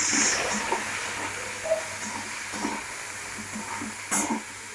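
Potatoes fry in a pan with salt and turmeric, giving a soft, steady hiss with a few brief stirring clicks and scrapes close by.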